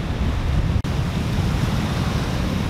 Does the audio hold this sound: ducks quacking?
no